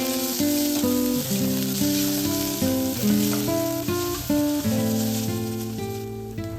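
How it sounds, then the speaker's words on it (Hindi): Ginger garlic paste fries in a kadhai for black sesame chicken, giving a constant bright sizzle that sits under louder melodic music throughout. "अभी कढ़ाई में ऐड करेंगे जिंजर गार्लिक पेस्ट और हल्का सा भूनेंगे"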